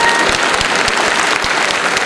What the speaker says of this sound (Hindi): हाँ, इसके लिए औरतें तालियां बजा सकती हैं